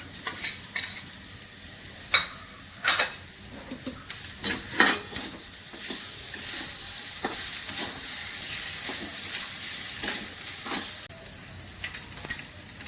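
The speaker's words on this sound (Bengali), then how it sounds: "এবার আমি ডিমটা মেশাচ্ছি" Egg being stirred into chow mein in a frying pan with a steady sizzle, broken by sharp scraping and clinks of a utensil against the pan, close by and with no voices.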